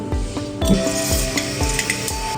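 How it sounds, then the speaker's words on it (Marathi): Hot cooking oil sizzling steadily in a pan on the stove, a loud continuous frying hiss with repeated rhythmic scraping and stirring strokes of a utensil against the pan, close and without voices. "तेल किती टाकायचं सांगावे एवढं टाकू ठीक आहे"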